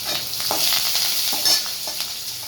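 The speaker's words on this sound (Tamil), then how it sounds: "இப்போ இஞ்சி தட்டி வச்சதை போட்டுக்கலாம் கருவேப்பிலை போட்டுக்கலாம்" Crushed ginger and curry leaves hit hot oil with urad dal in a pan, a bright steady sizzle and crackle with occasional stirring scrapes, close and continuous without any voices.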